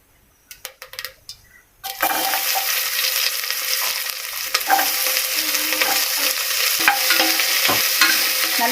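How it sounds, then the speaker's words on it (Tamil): Small onions, fennel seeds and curry leaves hit hot oil for a mutton lung and chana dal kootu. A few utensil clinks come first, then a loud, steady sizzle runs throughout, broken by stirring scrapes. "நல்லா வதக்கிக்கணும்."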